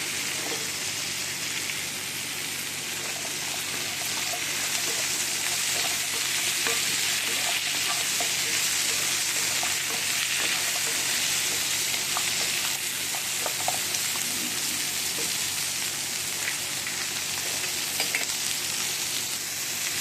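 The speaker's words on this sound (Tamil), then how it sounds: "எல்லாத்தையும் நல்லா இந்த எண்ணெயிலேயே வதக்கி வச்சுக்கலாம்" Vegetables being sautéed in oil for a chicken seekh kebab gravy, a steady close sizzle with frequent stirring scrapes running continuously for the whole stretch, no voices.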